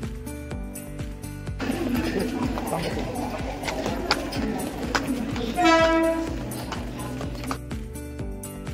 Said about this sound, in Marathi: आता एसी ट्रेन आली